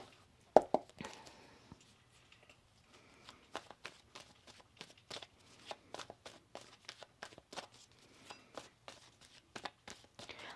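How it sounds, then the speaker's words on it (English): A deck of tarot cards is shuffled by hand in a quiet room, giving a sharp riffle near the start and then a series of soft, irregular slaps and taps as the cards are cut and restacked, close and fairly faint. "Let's get one more shuffle here."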